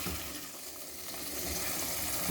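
Half a cup of water poured into a pot of potato and spinach curry on the stove, a brief steady rush and splash lasting a couple of seconds, close and fairly quiet.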